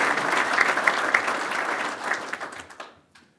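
An audience at a golf congress gives a long, steady round of applause for newly elected and re-elected board members; the dense clapping holds evenly, then thins and fades out near the end.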